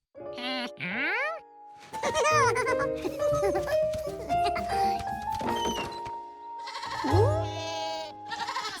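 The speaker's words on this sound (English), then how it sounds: "Kid is what you call a baby goat." Baby goats on a farm in an animated cartoon bleat several times in high, wavering cries, with the bleating spread across the scene and characters talking over it.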